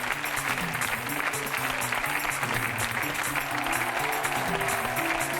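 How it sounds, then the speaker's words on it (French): TV studio audience applauding on a French game show, a dense, loud, continuous wash of clapping that holds steady throughout. "on applaudit très très fort Patrick"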